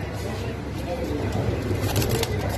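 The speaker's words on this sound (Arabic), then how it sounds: "هنا الطيور أيضا" Pigeons and doves coo amid crowd noise at a busy bird market stall, soft low calls under a steady murmur of voices and bustle.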